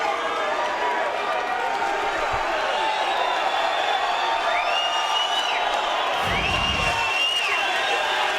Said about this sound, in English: They are giving him a heck of a round of applause here.